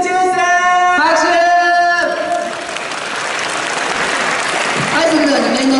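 Audience applause at a school festival stage event, a burst of crowd clapping in the middle while tonal voices and cheering sit at the start and end, fairly loud and close.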